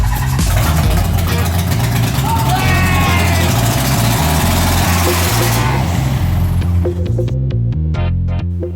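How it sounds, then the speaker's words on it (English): A Nissan 300ZX engine, freshly dropped back in, runs for its first time with a steady, loud droning hum close by, then quiets near the end into sparse ticking and clicking. "I finally got to dropping the engine in and then starting it for the first time."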